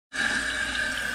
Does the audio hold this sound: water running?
yes